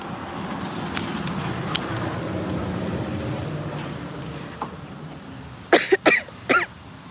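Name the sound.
coughing fit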